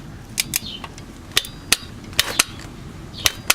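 A torque wrench clicks while tightening the transmission drain plug on a Honda Ridgeline to 33 foot-pounds. Sharp, separate ratchet clicks sound close by at an uneven pace, about ten of them over a low steady hum.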